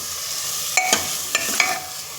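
Black moth beans (matki) are stir-fried in a pan, a soft continuous sizzle broken by a few sharp scraping and clinking strokes of a spatula, close and without talk.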